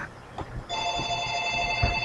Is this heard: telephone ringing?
yes